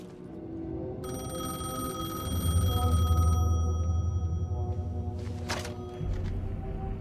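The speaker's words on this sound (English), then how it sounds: "The payphone was ringing." Payphone ringing in the Alan Wake 2 video game: a steady electronic ring tone holding for a couple of seconds over a low rumbling ambience, then fading into a few sharp clicks as the receiver is picked up.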